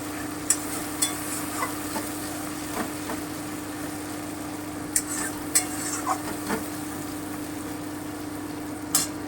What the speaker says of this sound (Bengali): আমি সমস্ত বাটা মশলাগুলো দিয়ে দিলাম আমি একটু খুব ভালো করে কষিয়ে নেব